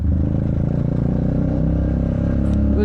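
A Triumph Speed 400 motorcycle engine drones steadily and loud while riding, a continuous low harmonic hum with slight revving variation throughout.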